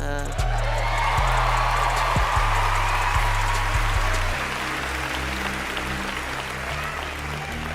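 The Grammys audience breaks into sustained applause and cheering, a broad wash of crowd noise heard beneath a steady low musical tone that shifts midway.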